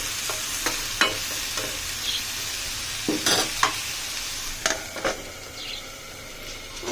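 Tempering sizzling in hot oil while new potatoes fry for aloo bhaji, with steady crackling and intermittent sharp scraping strokes of a spatula against the pan, heard close, with no talk.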